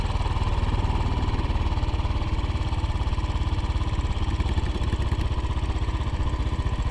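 A motorcycle engine on a rider training course runs at a steady mid-pitched putter with rhythmic firing pulses, moderately loud and continuous, with no clear gear change and no voices.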